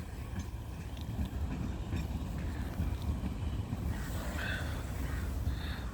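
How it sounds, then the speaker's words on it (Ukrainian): A low, steady rumble of a tram rolling past in Dnipro, Ukraine, with wind buffeting the microphone and faint metallic squeaks from the rails. "Ось у нас трамвайчик їде."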